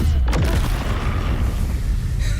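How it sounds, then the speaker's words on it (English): Fireball spell in Baldur's Gate 3 going off as a single loud, deep boom with a sharp onset, then a rumbling roll that fades over about two seconds. "Fireball."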